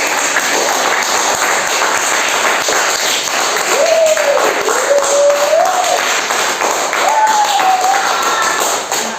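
A room of schoolchildren claps loudly together on the first day back after the Diwali holiday, a dense sustained roll of applause with a voice talking over it.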